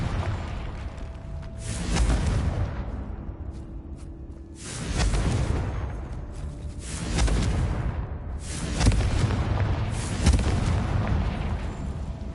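Repeated heavy blasting-spell explosions in the Hogwarts Legacy video game, five or six loud booming bursts spaced a couple of seconds apart, each with a rumbling decay.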